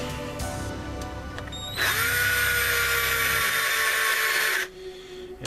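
A power driver tightens beadlock ring screws on a Gmade 2.2 RC wheel, a single close whirring run of about three seconds that spins up, holds steady and then cuts off.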